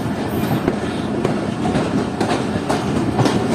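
Karakoram Express passenger train rolls along the rails, a steady close rumble with rhythmic clickety-clack of wheels over joints and occasional sharper clanks throughout.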